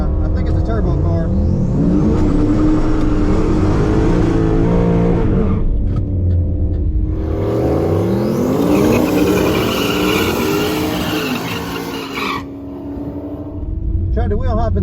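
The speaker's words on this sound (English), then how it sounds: "I think it's a turbo car." A turbocharged Ford Fairmont drag race car, dialed at 11.0, roars close by at a bracket race, engine revving up in repeated rising sweeps as it accelerates, then a second loud rising pull, with a brief quieter gap between runs.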